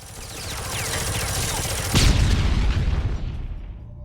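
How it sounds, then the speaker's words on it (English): A grenade going off in the first-person shooter Dead Effect: a deep, loud boom hits partway through over rumbling game noise, then its echoing rumble decays and fades to near silence. "It was a very satisfying explosion."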